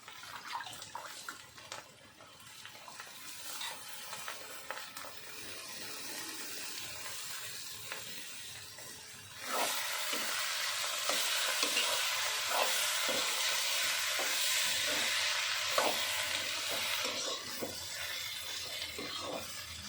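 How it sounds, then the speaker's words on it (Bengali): A bottle gourd curry with fish head sizzles in a pan as it is stirred, first a faint scraping and frying, then a louder steady hiss with scattered clinks of the spoon against the pan. "এবার আমি নাড়িয়ে চাড়িয়ে ঢাকা দিয়ে রাখছি লাউ ঘন্ট"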